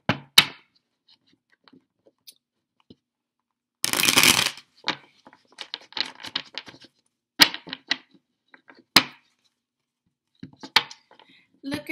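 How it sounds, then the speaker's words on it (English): A tarot card deck is shuffled up close, with a dense riffling burst followed by scattered snaps, flicks and soft slaps of cards in irregular bursts between near silence. "We're gonna go ahead and get the tarot deck going."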